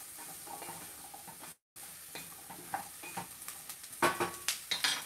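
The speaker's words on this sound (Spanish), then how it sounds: "para después sofreír un poco lo que viene siendo la zanahoria" Carrot sautés with onion and garlic in a pan, giving a low, steady sizzle broken by a brief silence, then louder clattering stirs and utensil scrapes toward the end.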